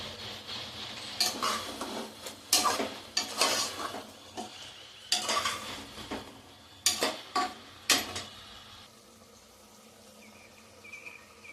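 A utensil stirs turmeric into green chillies frying in a pan, giving a series of distinct scraping clatters in irregular bursts over a soft sizzle, then a quieter stretch at the end.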